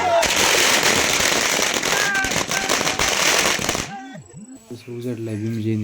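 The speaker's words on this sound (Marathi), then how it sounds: "आता 12 वाजता फटाके फोडू म्हणलं जरा" Firecrackers set off around midnight for a Bhim Jayanti celebration, with a dense run of loud cracking bangs and rattling bursts, then a quieter stretch with scattered pops under voices and music.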